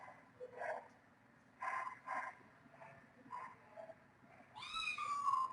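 Newly taken-in kittens give several faint, high, wavering meows from close by, scattered across a quiet room, with the last cry longer and louder than the rest.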